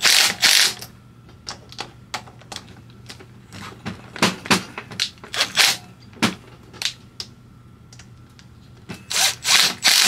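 Socket ratchet working on a GY6 scooter engine, giving bursts of rapid close clicking separated by short quiet pauses, loud and without any talk.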